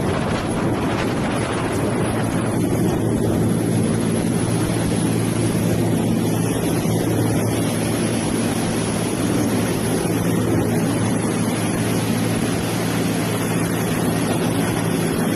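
A steady, loud rotor and engine roar drones throughout, with broad rumbling noise and wind buffeting, from a Mi-8 military helicopter heard from close by.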